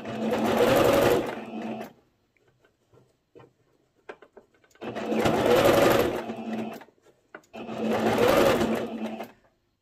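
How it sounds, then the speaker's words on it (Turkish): A sewing machine stitches the tiers of an elastic skirt in three close bursts of rapid whirring, each lasting about two seconds, separated by quiet gaps with faint handling noise. "Aynı yöntemle bu kısmı da dikiyoruz. Burada da yine dikiş dış kısımda kalacak."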